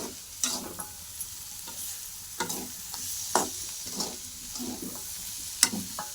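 A spoon stirs a cooked pea vegetable dish after coriander is added, giving a series of soft scraping, clattering strokes at irregular intervals against a quiet background, with no talking.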